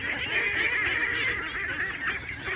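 A dense flock of ducks on a duck farm, Khaki breed among them, sets up a loud continuous chorus of honking quacks close by with no talk over it.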